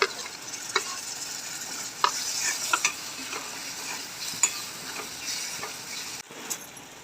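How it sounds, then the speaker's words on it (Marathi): A spoon stirs finely chopped tomato and cumin powder through a hot frying pan, scraping steadily under a soft, constant sizzle, with brief clinks at scattered moments and no talking. "एक चम्मच जिरा पावडर छान प्रकारे मिक्स करून घेऊया एक टोमॅटो बारीक चिरलेला होता तो पण टाकून देऊ"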